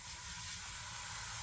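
A steady, loud hiss of water spraying from a hose onto a potted plant, continuous and close throughout.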